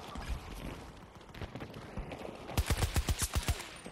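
Gunfire crackles in a Battlefield game, with scattered shots early on and then a loud, rhythmic burst of about ten closely spaced rounds near the end.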